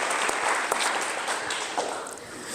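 An audience applauds at a school signing day ceremony, a dense burst of many hands clapping at moderate loudness that tapers slightly toward the end, with no talking over it.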